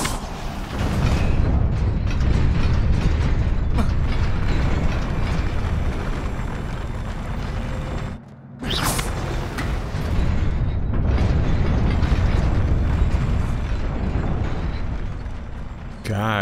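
Fire spells cast in the Hogwarts Legacy video game produce a loud, sustained roaring rumble with booming bursts over many seconds, broken by one short dip and a sharp whoosh, while a person talks over the game.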